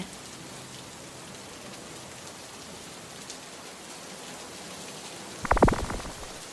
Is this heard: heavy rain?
yes